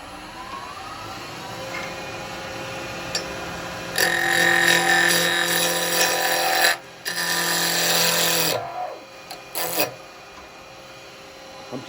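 A wood lathe spins a fishing baiting tool between centres under a low running hum, as loud raspy cutting bursts from the gouge come and go for several seconds and then stop abruptly.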